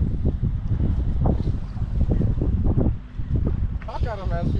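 Strong wind buffets the microphone on a boat out bay fishing near South Padre and Arroyo City, a continuous rough rumble with water noise, while people talk over it.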